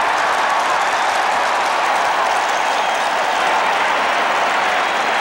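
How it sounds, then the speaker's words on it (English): A stadium crowd roars and applauds steadily after a goal at a 1990 Syracuse vs. Johns Hopkins college lacrosse game, a loud, dense wash of clapping and cheering with no letup. "Listen to the crowd."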